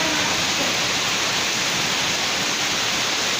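Heavy rain pours down with rushing, flowing water in a dense, constant wash of noise that never lets up, with no voices.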